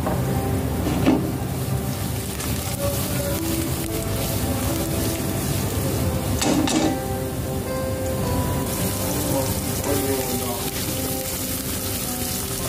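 Garlic sizzling in hot olive oil in a pan, a steady crackling hiss throughout with a few louder pops and spatters, and faint talk in the background.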